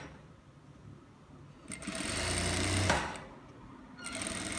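A sewing machine stitching palazzo trousers, a close whirring buzz that starts softly, rises to a steady run for about a second, pauses, then starts up again.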